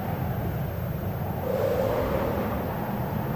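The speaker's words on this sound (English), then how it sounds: "Should I follow the wind stream?" Steady rushing wind stream in the video game Aer, a continuous airy whoosh with a brief brighter swell midway, heard alone without talk.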